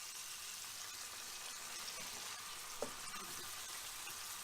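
Brandy hits a hot pan of onions and garlic, and a steady, fairly quiet sizzle hisses throughout, with one faint clink of a utensil partway through and no talking.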